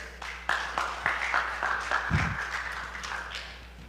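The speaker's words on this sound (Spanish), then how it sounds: "Dale un aplauso al Señor por eso." A church congregation gives a soft, scattered round of applause, distinct claps over a low steady hum, with a brief low thump partway through.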